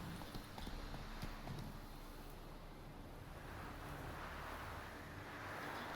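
Horse hooves clip-clopping at a steady gallop in The Witcher 3: Wild Hunt, a continuous rhythmic pounding mixed with wind noise, fairly quiet overall.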